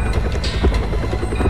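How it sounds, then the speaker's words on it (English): A video game helicopter thrums steadily in a dense low-frequency drone, loud and continuous throughout with no talking. "I hear your helicopter!"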